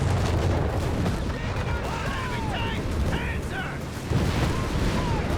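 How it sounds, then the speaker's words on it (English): An anti-tank gun fires during a Company of Heroes 3 World War II battle, its booming blasts sunk into a dense, continuous roar of combat noise while a voice speaks over it. "Moving forward, see anti-tank blast away there."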